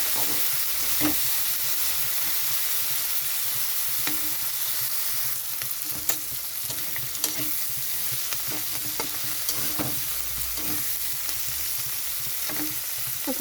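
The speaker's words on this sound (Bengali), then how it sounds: "এখানে চিংড়ি মাছটা দিয়ে দিচ্ছি ভাজার জন্য।" Prawns and potatoes fry together in a pan with a steady, close sizzle, while a utensil stirs and scrapes through them in irregular clicks and knocks.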